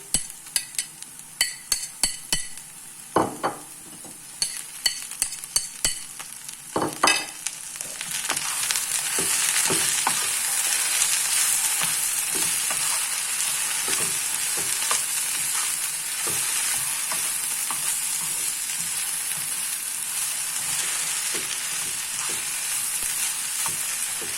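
Potatoes and chopped spinach sauté in a pan; a few sharp knocks and scrapes come first, then a loud, steady sizzle and crackle takes over and carries on unbroken, with no voices.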